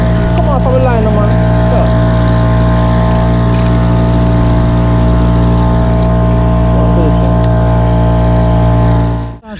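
A motorboat engine runs at full power while fishing for king mackerel and jacks off Jamaica, a loud, steady drone with a strong hum throughout, cutting off sharply at the very end.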